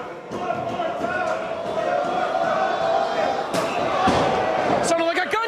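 Hard kicks from wrestler John Silver land in a Beyond Wrestling match against Martin Stone, sharp slaps and thuds cracking over crowd noise and commentary, with a loud smack near the end.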